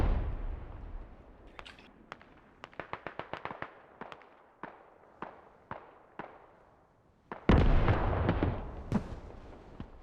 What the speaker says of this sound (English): There's the artillery there.